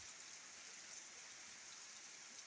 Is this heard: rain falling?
yes